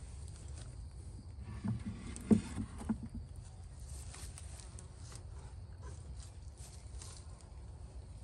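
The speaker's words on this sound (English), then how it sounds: "So there are the bees." Honey bees buzzing around a newly set-up beehive, a steady low drone close by with a few brief louder passes, no voices.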